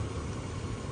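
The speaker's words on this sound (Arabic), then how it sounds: "الآن نسوق لكم الموتر" The 4.5-litre six-cylinder engine of a 2005 Toyota GX-R, shown at an auction, runs with a steady, even hum for about a second, heard close and moderately loud with no talking.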